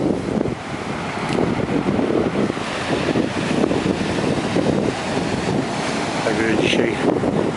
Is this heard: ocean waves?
yes